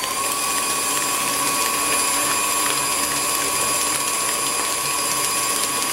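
Electric stand mixer with a paddle running on low speed through dinner roll dough, a steady continuous mechanical whir and rattle with a constant hum, close and unbroken throughout.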